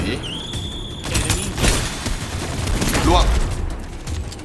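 Rapid gunfire from a shooting video game, sounding as dense bursts of shots with crashes and booms mixed in, fairly loud and steady throughout, with busy game noise underneath.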